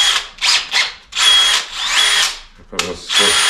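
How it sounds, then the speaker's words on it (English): A handheld power drill, used during a headlight restoration, whirs in repeated bursts of varying speed, loud and close, with brief pauses between runs and some voices under the noise. "he's got his drills with him"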